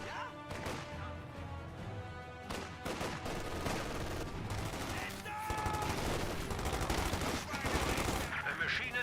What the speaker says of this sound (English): Even bolt action rifle fire wouldn't hurt.